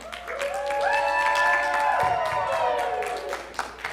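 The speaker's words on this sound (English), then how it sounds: "Please give them a round of applause." An audience claps for volunteers at a student singing event, loud dense applause that swells and then tapers off. A brief voice overlaps it and a few cheers rise above the clapping.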